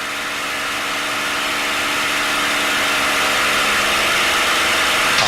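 A TF-51 Mustang aircraft engine, steady and loud as its power is reduced in flight, a continuous broadband roar with no voices.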